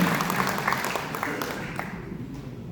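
Audience applause at a regular seminar forum held at the Air Force Hotel, honoring the forum's president. A steady, dense wash of clapping fills the room and tapers slightly toward the end.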